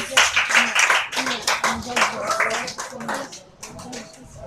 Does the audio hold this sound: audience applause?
yes